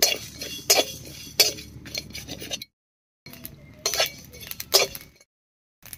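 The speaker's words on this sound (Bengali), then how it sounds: "এবারে শুকনো খোলায় কয়েকটা মশলা ভেজে নেব" Whole spices, mustard seed, cumin and dried red chilli, dry-roasting in a hot pan, heard as bursts of rattling and scraping clinks with short silent gaps between.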